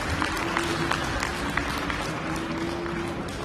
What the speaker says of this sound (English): please give a warm round of applause for Team Williams Esports